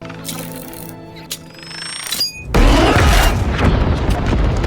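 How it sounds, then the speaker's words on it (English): A deep boom from animated explosions in the series Arcane breaks out and rolls into a loud, sustained rumbling roar, after a stretch of quieter tonal sound. "How big are those explosions? That is insane."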